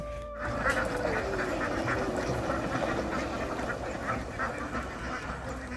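Ducks quack faintly by a river, scattered calls spread under a steady outdoor hum and murmur.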